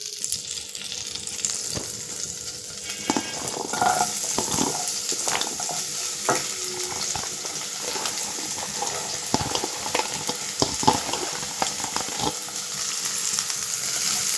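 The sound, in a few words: onions frying in hot butter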